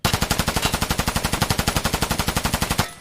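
Sustained full-auto fire from a Mutant rifle in Escape from Tarkov, a rapid, even burst of about thirty loud close shots over nearly three seconds, ending in a brief tail.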